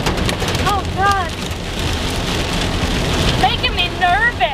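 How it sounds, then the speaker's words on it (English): Hail and heavy rain batter a vehicle during a thunderstorm, a steady loud drumming roar throughout, with bursts of high chirping sounds riding over it. "Oh, there's hail."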